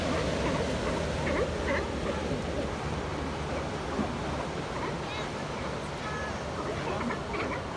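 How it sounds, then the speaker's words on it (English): A colony of a few hundred sea lions at La Jolla Cove, San Diego, barks and groans in a dense, continuous chorus, with surf and wind rushing steadily behind it. "Gotta be a few hundred sea lions here."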